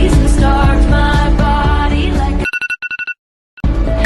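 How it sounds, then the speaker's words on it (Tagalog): A mobile phone alarm goes off in the morning, a steady looping ringtone melody that plays loud and close, breaks into a few short stuttering chimes, falls silent for a moment, then starts up again. "Sa paggising ko sa tuwing umaga, bungad ang tunog ng aking telepono."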